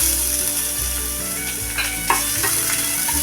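Chopped onion with crushed garlic cloves sizzling and frying steadily in a pan, a continuous close hiss with occasional stirring scrapes for a gravy.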